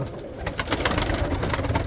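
Ankara pigeons coo continuously in a dense, layered chorus, close and fairly loud, with soft rhythmic pulses repeating throughout.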